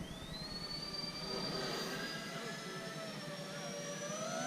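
An FMS A-10 Thunderbolt II 70mm EDF RC jet makes a flyby, its steady high-pitched ducted-fan whine holding at a fairly even level throughout with a slight rise partway through, heard fairly close with no talk over it.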